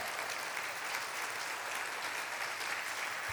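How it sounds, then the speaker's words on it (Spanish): A church congregation applauding during a Spanish-language sermon, steady dense clapping from many hands that holds at an even level throughout, moderately loud and filling the room. "Dale un fuerte aplauso al Señor."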